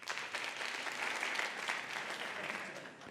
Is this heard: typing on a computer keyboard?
no